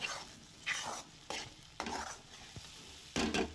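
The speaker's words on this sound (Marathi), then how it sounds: "तर इथे बघा सगळा मसाला आपण तेलामध्ये घातलेला आहे" Cashew masala spices sizzling in hot oil in a pan as they are stirred, heard close up in short scraping bursts with no talking.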